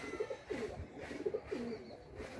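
High-flying pigeons kept by a fancier coo in repeated soft, rolling phrases, close by and fairly quiet with a faint background hiss.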